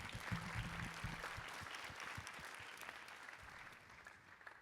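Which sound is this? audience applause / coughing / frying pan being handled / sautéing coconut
audience applause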